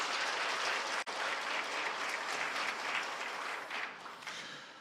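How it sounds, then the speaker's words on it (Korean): A congregation at a Korean church Sunday worship service gives a warm round of applause, a steady blanket of claps that softens slightly toward the end. "우리 목사님께 한번 감사의 박수를 드리겠습니다."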